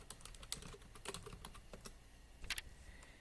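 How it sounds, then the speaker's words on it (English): Quick bursts of keystrokes on a computer keyboard as an address is typed in, irregular clicks in short runs, faint and close with no talking. "I like to type in the physical address."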